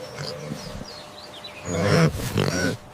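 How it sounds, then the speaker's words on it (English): A pig grunts close by, a short cluster of rough, snorting grunts in the second half after a quieter stretch. "Pig."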